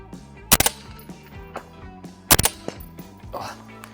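Two loud, sharp FN SCAR-L rifle shots ring out close by, about two seconds apart, with a few fainter cracks around them and someone talking over the gaps.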